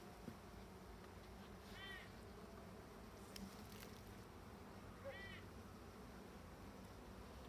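Honey bees from a colony founded in 2021 hum faintly and steadily at an opened hive during a spring inspection, a low continuous drone broken by a couple of brief high chirps.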